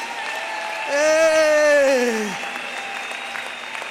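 An audience at a sermon applauds in a steady, even wash of clapping, while a loud voice rises in a drawn-out call over it.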